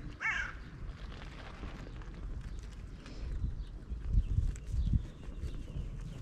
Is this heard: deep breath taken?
no